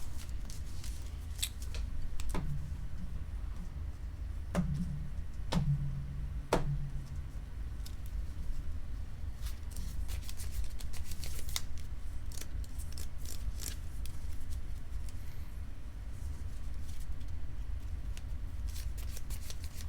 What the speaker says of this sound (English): then shuffle your deck.